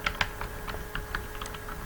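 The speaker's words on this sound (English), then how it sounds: "it allows you to type in the ID number" An ID number being typed on a computer keyboard in a medical claims system, with quick, light key clicks in an uneven run, close and clear over a faint steady hum.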